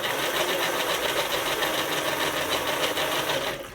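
A folding e-bike hub motor runs steadily and drives the chain, making a loud continuous buzzing whir that holds level for several seconds and then starts to fade right at the end.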